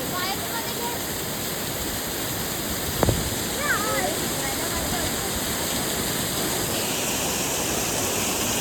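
A waterfall of milky white water near Mahabaleshwar rushes with a steady, even roar that fills the scene at moderate distance, marked by one brief knock and a few faint chirps.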